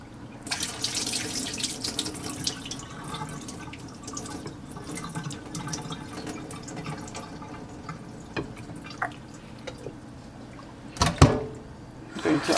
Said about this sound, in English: And drain the excess water out.